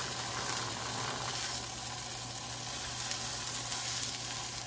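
Onion slices sizzling on a hot griddle for a vegan burger, a steady close hiss and crackle with faint spits throughout, no talking.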